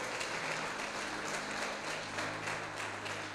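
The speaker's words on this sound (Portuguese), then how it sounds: "Você pode aplaudir" A church congregation applauding during a sermon, a dense steady wash of clapping filling the whole stretch at moderate level with no voice over it.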